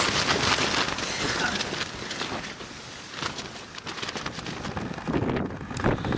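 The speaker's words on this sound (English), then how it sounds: "It's really windy." Strong wind in Death Valley roars and buffets across the microphone in continuous gusts, loud and rushing throughout with no voices.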